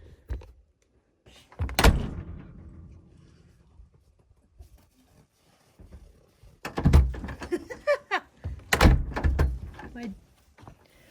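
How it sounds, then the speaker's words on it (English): A wooden door in a log home shuts with a couple of solid thunks and latch clatter, close and fairly loud, between stretches of quiet with a bit of talk around it. "My door hasn't shut that easily for like a month."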